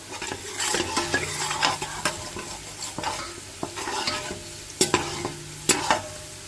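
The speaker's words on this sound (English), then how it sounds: "I'm going to allow the meat to fry up in the oil as well, so the curry will also be burnt" Jamaican curry goat meat frying in curry oil in a pot, a low sizzle punctuated by frequent rhythmic spoon scrapes and knocks against the pot.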